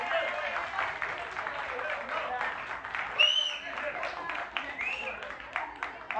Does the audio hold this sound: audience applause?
yes